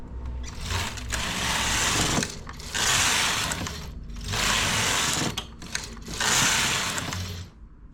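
A knitting machine carriage sweeps back and forth knitting rows of a neck scarf, four loud whirring, rattling passes separated by brief pauses, close and without speech.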